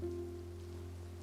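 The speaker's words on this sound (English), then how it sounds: "It's raining." Rain falls steadily in a Genshin Impact game scene, a soft even patter over a low constant hum, faint and continuous with no voices.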